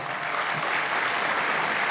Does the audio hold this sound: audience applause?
yes